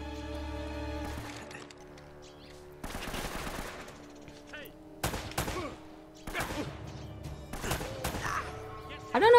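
Bursts of automatic gunfire from Uncharted: Drake's Fortune, several rapid volleys spread across the stretch with sharp crashing impacts between them, loud against a steady game background.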